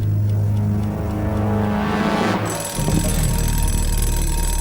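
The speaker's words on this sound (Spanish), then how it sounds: "Ron puso el despertador a las 3 de la madrugada." An alarm clock rings at 3 a.m., a steady electronic tone that carries on without a break across the clip. A rising sweep leads into a sustained high, buzzing ring.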